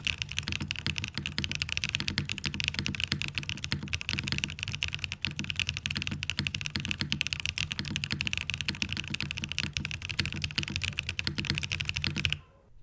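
Custom mechanical keyboard with case foam added, typed on fast and steadily: a dense stream of close, clacky keystrokes lasting about twelve seconds before stopping abruptly, no voices.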